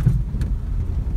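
Car rolling along a quiet country road, a steady low rumble of engine and tyres close by, with no voices.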